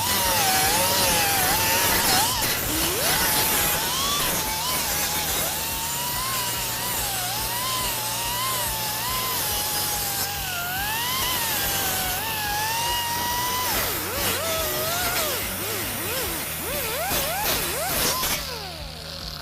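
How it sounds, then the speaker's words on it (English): A steel panel being ground with a 50 grit disc, a loud continuous whine that wavers in pitch as pressure shifts, close and unbroken for the whole stretch. "We're going to start with a 50 grit on the steel."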